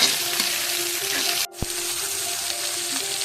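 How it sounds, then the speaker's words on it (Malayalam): Sliced onions fry and sizzle in a pan as they are stirred toward brown, a dense continuous hiss with a brief dropout midway, close and loud, no talking. "ഈ നല്ല ബ്രൗൺ നിറം ആവുന്നത് വരെ ഇളക്കണം"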